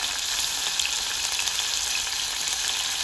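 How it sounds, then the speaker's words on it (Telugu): Tomato pieces fry in hot oil, giving a loud, steady, close-up sizzle that holds evenly throughout with no voices. "ఈ టమాటా ముక్కలు కొంచెం నూనెలో మగ్గనివ్వాలండి."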